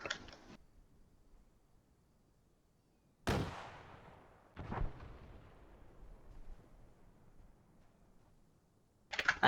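Rifle P8 firing in the Arma 3 game with a World War II weapons mod: loud sharp shots with long rolling echoing tails, roughly four reports spaced irregularly, no talk.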